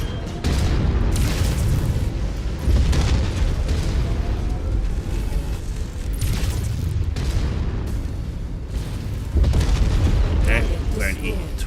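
AC-20 autocannon rounds pounding away in Mechwarrior 5 Mercenaries, heavy booming blasts repeating over a dense, loud rumble of mech combat, with talk woven through.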